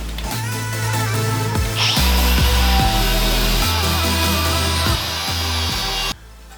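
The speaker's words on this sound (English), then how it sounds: "I like to use these Scotch-Brite pads here on the grinder disc" An angle grinder fitted with a Scotch-Brite pad cleaning metal on a Nissan GU Patrol during shock tower work, a steady loud whirring drone with shifting pitch as it is pressed and eased, then cut off abruptly.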